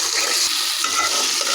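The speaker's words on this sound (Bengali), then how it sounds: "এখন আদা বাটাটা আমি ভেজে নিব পেঁয়াজের সাথে" Ginger paste frying together with onions in a pan makes a loud, dense, continuous hiss and sizzle throughout.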